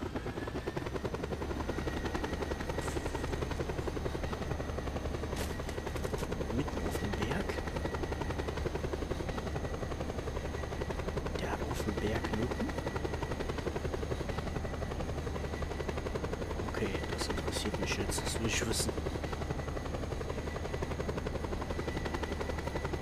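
Helicopter in the action game Just Cause 2, a steady loud rotor thrum and whine throughout with occasional gunshot-like clicks and sharp bursts scattered over it.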